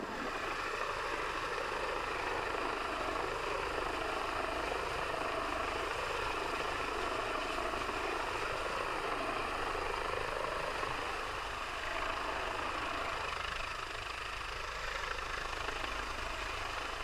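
A rescue helicopter drones steadily overhead during an annual water-rescue training exercise, its loud, continuous rotor and engine roar filling the scene with a gentle rise and fall and no talking.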